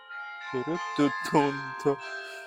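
Bells ring out as sustained metallic tones that hang through the whole stretch during a prayer program, while a voice speaks over them.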